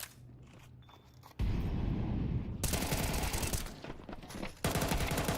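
Rapid bursts of gunfire in a Counter-Strike match, loud and dense, arriving in sustained volleys after a quieter opening.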